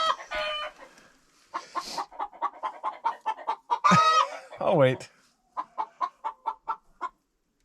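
Chickens in a coop clucking in quick rhythmic bursts, with a louder squawk and crowing-like cry midway, close and clear; a person speaks briefly at the start.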